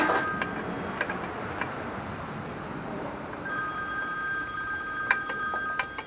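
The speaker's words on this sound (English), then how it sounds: "Now I'm getting a phone call" A telephone rings with an incoming call, its electronic tone coming in a few short repeated bursts over a steady background hiss and faint clatter, with no talking.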